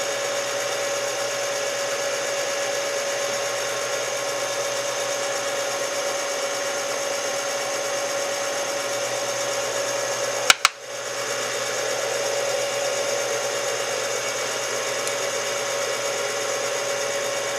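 A small power tool hums steadily while chamfering and deburring the mouths of .22 Creedmoor rifle cartridge cases, a constant close whirring drone broken once by a brief click.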